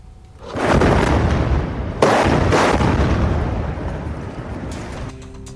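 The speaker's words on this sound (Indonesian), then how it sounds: "Rudal menghantam bangunan dan juga memicu ledakan besar." Two heavy missile-strike explosions hit close together, each followed by a long, rumbling roar that slowly fades.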